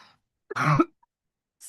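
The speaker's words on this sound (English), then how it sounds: "Last bit of cough." A single short, harsh cough in a quiet live real estate teaching session, isolated between silences with a faint throat sound just after.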